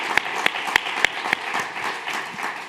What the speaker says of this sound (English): please join me for another round of applause for amazing work